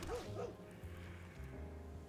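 A cartoonish dog bark from a dog token in the card game MTG Arena, a couple of short yips at the start followed by a low, steady game-music bed.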